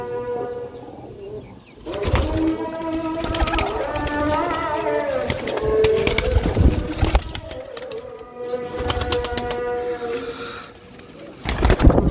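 Caged pigeons coo close by in soft, repeated throaty calls, with rustling and clattering movements around them.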